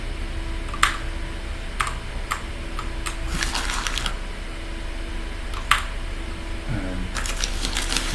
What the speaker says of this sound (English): that sound that you hear me picking up the plants, that's basically using Audacity